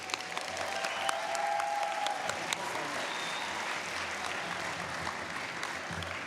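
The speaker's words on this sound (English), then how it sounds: "Oh, we can clap louder than that" An audience at a Latinx youth conference applauds, a dense, sustained wash of many hands clapping that stays steady from start to finish.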